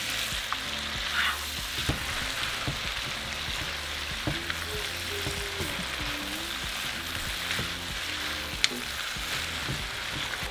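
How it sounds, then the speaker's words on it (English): Beef ribs and nopales fry in hot oil with a steady, close crackling sizzle, broken by occasional clicks and scrapes of stirring. "Now fry them together. So fry them for a couple more minutes."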